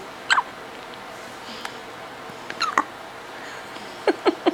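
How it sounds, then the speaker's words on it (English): A baby hiccups in a quiet room, several short sharp squeaky hics spaced irregularly, with a quick pair near the end, close and clear against faint background hiss. "They're the loudest hiccups I think I've ever heard."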